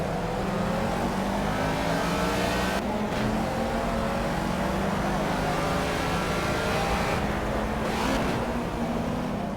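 Ford Escort Mk1 race car engine in the Project CARS racing game, a steady mid-level drone with revs rising and falling and brief gear-change dips.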